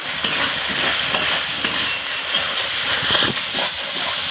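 Spice masala for egg curry, with garlic cloves, fries loudly in a pan, giving a steady broadband sizzle and hiss broken by occasional scraping stirs.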